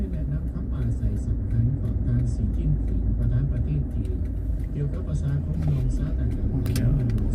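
Road traffic in Vientiane, Laos, heard from inside a moving vehicle: a continuous low engine and road rumble with occasional passing cars, while a person talks throughout.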